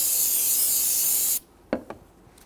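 Solvent sprays in a steady, loud hiss for over a second onto the brake fluid reservoir top of a 2007–2014 Cadillac Escalade with the hood open, then cuts off, followed by a couple of soft, brief knocks.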